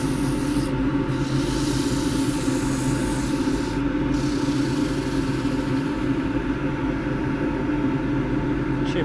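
Heavy sanding with 120-grit abrasive on a splintery she oak jewel box turning on a wood lathe: a steady, loud, continuous rubbing rasp that holds evenly throughout with the lathe's hum beneath it.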